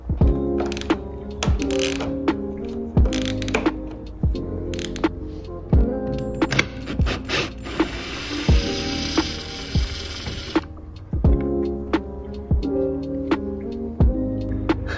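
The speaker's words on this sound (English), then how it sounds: "You're gonna remove those plastic grommets to get to the 5 T25 Torx bolts that are in the interior of the rear spoiler." A ratchet clicks loose the T25 Torx bolts on the rear spoiler of a 2021 F56 MINI Cooper S. Close, loud, rhythmic bursts of rapid pawl clicks repeat steadily, with a longer continuous stretch of clicking midway and no talking.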